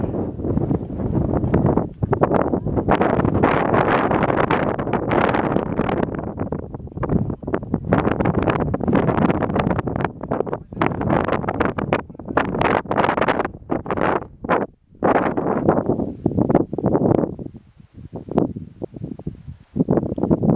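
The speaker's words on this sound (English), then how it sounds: "The wind up there was just bone chilling." Strong, bone-chilling wind on the Vivian Creek Trail up San Gorgonio mountain roars continuously in heavy gusts, buffeting the microphone up close with rumbling surges and brief lulls.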